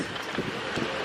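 Strong wind buffets the microphone near a beach, a steady roaring rush with gusty swells and no voices.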